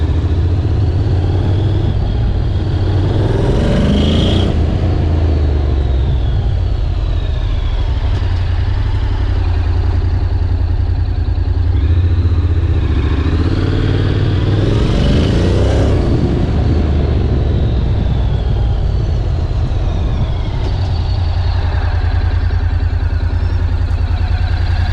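A 2022 Honda NC750X motorcycle with no clutch lever runs steadily and loudly throughout, its mid-pitched engine drone rising and falling with wind noise while riding.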